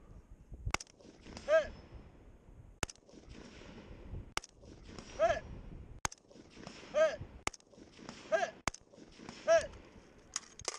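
Rifle shots ring out one after another, a single bullet to each target, as a shooter sweeps across a row of targets at a BCAS 2-Gun match. Crisp cracks come in a quick irregular rhythm, with short echoes and a few softer metallic hits between them.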